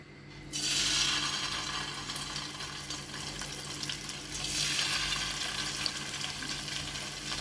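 Marinated chicken 65 pieces frying on a medium flame hiss in a steady, close sizzle that surges loudly as they hit the oil, then continues evenly with a second swell later; no one speaks.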